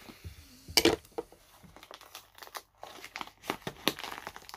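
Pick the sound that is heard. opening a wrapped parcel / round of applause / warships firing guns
opening a wrapped parcel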